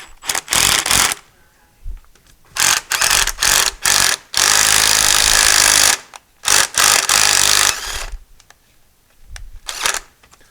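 A 12-volt cordless power driver snugging fasteners on a Sidney lathe during a taper attachment install, loud close bursts of whirring, one long run in the middle, with brief pauses between.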